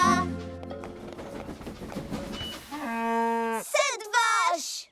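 Cartoon cows moo in a couple of drawn-out, wavering calls near the end, following a stretch of busy music and voices.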